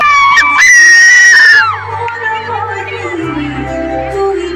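Crowd screaming at a college annual function dance, loud high-pitched shrieks and cheers near the start that give way to a busier crowd roar with music-like tones underneath.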